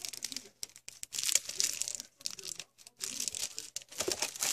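Foot detox patch packets crinkle and rustle up close in repeated bursts of papery crumpling as they are handled.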